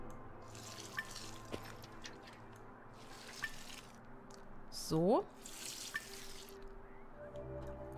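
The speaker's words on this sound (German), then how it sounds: "Und ich gieße die jetzt." Watering freshly planted seeds in the video game Among Trees, a soft splashing pour under quiet background sounds with faint drips, while someone briefly speaks.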